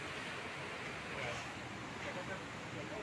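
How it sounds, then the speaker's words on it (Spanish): Waves on the Peruvian coast wash in as a steady, broad surf roar with wind noise over the microphone, even and unbroken, with voices faintly present. "El mar peruano."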